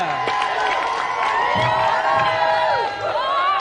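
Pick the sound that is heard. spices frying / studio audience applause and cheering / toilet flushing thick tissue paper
studio audience applause and cheering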